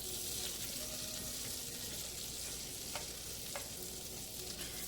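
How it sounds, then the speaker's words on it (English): Butter sizzling and frying in a pan while it caramelizes for a Cajun Alfredo sauce, a steady close hiss with a few faint clicks and stirring touches, no talk. "You know, you can let your butter caramelize a little bit."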